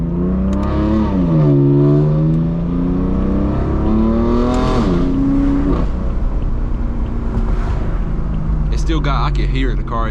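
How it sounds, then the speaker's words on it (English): A BMW F82 M4 engine drones loudly and steadily while driving, its pitch climbing and falling with the revs, with a person talking over it throughout. "I can hear the car."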